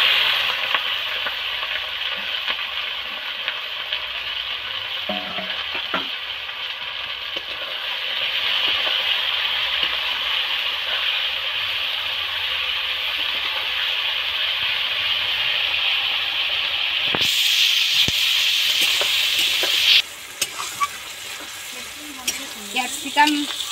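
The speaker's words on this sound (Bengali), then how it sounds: "এবার ক্যাপসিকাম, টমেটো, পেঁয়াজ কুচিটা তেলের মধ্যে উঠিয়ে দিচ্ছি।" Capsicum, tomato and chopped onion fry in hot oil for a mutton curry, giving a loud, continuous sizzle with occasional stirring scrapes, growing brighter as the vegetables hit the oil.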